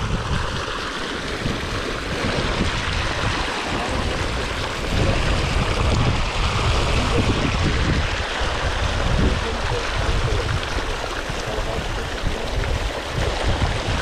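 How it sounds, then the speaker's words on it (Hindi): River water gushes out of an irrigation pump's outlet pipe on a farm, a loud, continuous close-up rush and splash that swells slightly midway. "ये जो पास में नदी है उसमें से ही पानी आ रहा है।"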